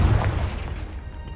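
Short, loud booming burst from the Confringo fire spell in Hogwarts Legacy. A heavy low thump fades quickly into a rumbling tail, with no voices.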